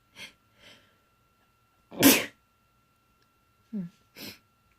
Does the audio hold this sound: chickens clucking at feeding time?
no